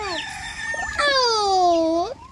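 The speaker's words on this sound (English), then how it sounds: "It's the baby chicken? A baby chicken." Chicken vocalizing near a school walk, loud and close: a crowing-like call with strong harmonic sweeps rising then falling across about two seconds, heard alone.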